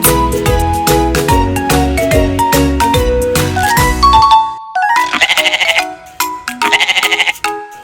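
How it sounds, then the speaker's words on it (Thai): Goat bleating in a children's animal matching game: a music-box jingle plays first, then a run of loud, close, quavering bleats in two bursts with no voices. "ต่อไปก็คือแพะ"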